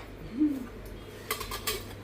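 Metal pots and dishes clink and clatter in a few brief bursts, close by and fairly quiet, with one short ringing tone from a shifted vessel.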